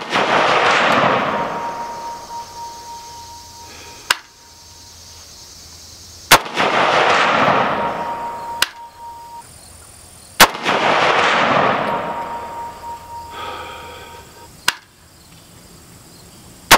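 A Zastava M70 rifle fires Tula ammunition at a 200-meter range, sharp loud cracks with long echoing tails, several shots spaced seconds apart, alone without talk.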